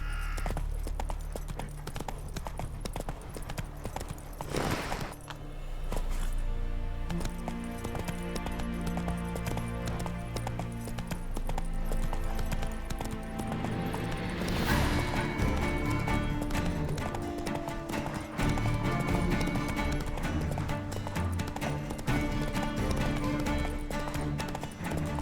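Roach, the horse in The Witcher 3, gallops with steady, rapid hoofbeats over a continuous game soundtrack, and a brief whinny-like cry is heard partway through.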